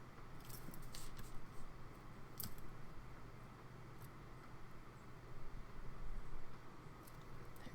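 Excess paper trimmed with a blade for a junk journal page: faint, soft cutting and scraping, with a few small sharp clicks scattered over a low background hum.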